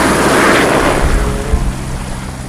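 A small Army (TNI AD) helicopter drones steadily with a broad rotor and engine roar, loud at first and easing slightly as it passes, with no voices.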